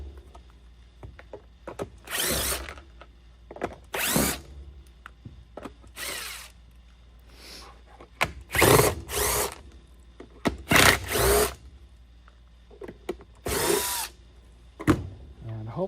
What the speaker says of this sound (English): So you have 1, 2, 3, 4, 5 screws to pull out, and then this will separate the shell here.